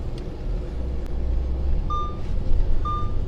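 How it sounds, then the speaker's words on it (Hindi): Audi A6 3.0 car driving smoothly on a road, a steady low engine and road rumble throughout, with two brief high electronic chimes or beeps over it. "बहुत स्मूथली कार चल रही है, बहुत स्मूथली"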